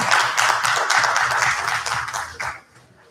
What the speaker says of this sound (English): Can we have a big round of applause for our panelists, please?